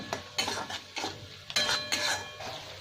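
Soybean kofta spice masala stirred and sautéed in a pan, with a spoon scraping and clinking against the metal in repeated strokes over a soft sizzle, close and fairly quiet with no talking.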